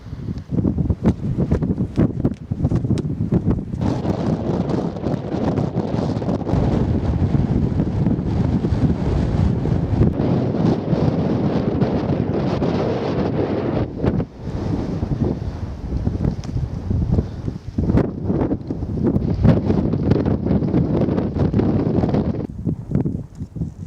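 Strong wind buffets the microphone on an exposed hilltop, a loud, continuous roaring rumble with gusty fluctuations, lasting throughout with no voices.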